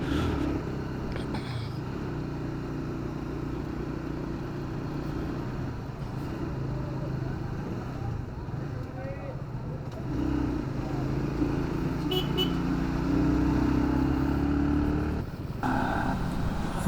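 Motorcycle engine droning steadily and close throughout a solo bike ride on the Jammu to Banihal stretch toward Ladakh, with a constant low road rumble, slight swells in revs and no voices.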